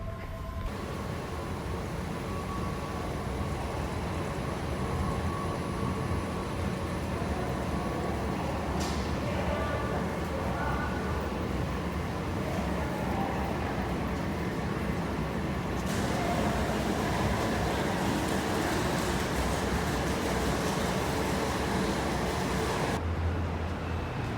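Subway train in Taiwan running through a station or tunnel, a steady broad rumble throughout with a brief high squeal near the middle and a louder surge late on, then a quieter tail.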